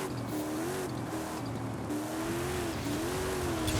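A 1400 horsepower Scout 800A engine in a racing video game revs steadily, its pitch rising and falling in repeated swells, loud and close throughout with a continuous rough drone underneath.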